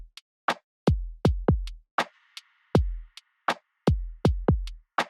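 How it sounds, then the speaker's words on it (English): A sparse programmed drum loop in a music production project, with punchy kicks and snappy hits in a steady pattern, dry and close, plus a brief sustained tone in the middle. "Currently in my project, my drums sound like this."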